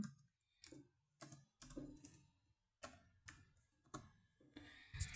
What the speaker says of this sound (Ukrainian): Пишемо SMD і пишемо от эту команду.